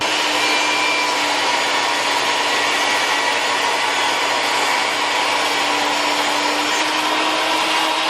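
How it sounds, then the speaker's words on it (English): A bandsaw cuts through metal stock for a drag bike motor mount, a steady, loud broadband grinding hiss with a faint whine, running continuously without pause. "cut them on the bandsaw"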